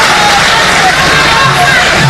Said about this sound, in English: Another round of applause for our honorable chairman.